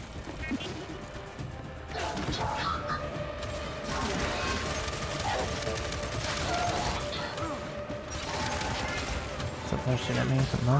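Bursts of gunfire rattle almost nonstop through a Gears 5 firefight in Act 2, Chapter 4, with rapid automatic fire, heavy impacts and mechanical clanks piling up loudly, and voices can be heard amid the shooting.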